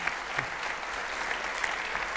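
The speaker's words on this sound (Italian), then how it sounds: "Un applauso gli facciamo?" An audience at an accountants' association event claps steadily for a couple of seconds in an even, sustained round of applause with no one speaking over it.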